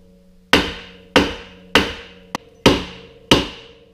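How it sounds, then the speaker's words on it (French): A hammer strikes metal to knock loose a ball joint on a 1994 Kodiak 400 ATV, five sharp ringing blows plus one light tap, evenly spaced and close, with no talking. "Et avec un marteau, on fait cela."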